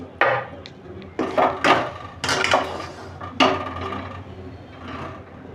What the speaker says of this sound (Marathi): आता आपण हे मिश्रण आहे ते याच्यावरती घालून घेऊया